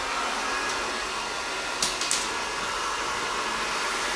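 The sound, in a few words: blow dryer running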